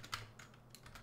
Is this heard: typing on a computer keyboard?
yes